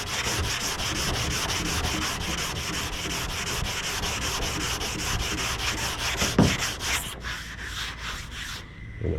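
Abrasive sanding on the lower door of a car during rust repair bodywork, cutting through primer down to black epoxy primer; steady, close rhythmic scraping strokes run throughout, ending with a few brief lighter passes.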